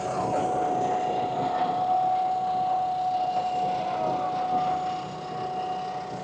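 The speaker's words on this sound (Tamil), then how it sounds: "இதான் நீங்கள் டிராக்டர்." A tractor engine drones steadily at an outdoor pumpkin festival, a continuous mechanical hum with a sustained tonal whine that holds level throughout.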